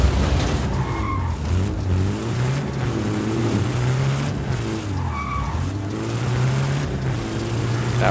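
Car engine droning steadily with repeated skidding and tire squeal as the vehicle slides, in the video game Just Cause 4 with a car fitted with spiked wheels; loud and continuous with no talk.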